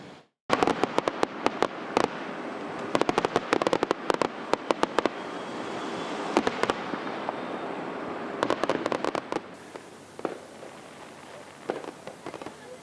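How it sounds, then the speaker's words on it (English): Dense crackling pops and bangs of a July 4 fireworks show in New Britain, Connecticut, going off in rapid clusters, loud and continuous for several seconds before thinning to scattered distant bursts. "Lots of anticipation for New Britain's Great American Boom fireworks show."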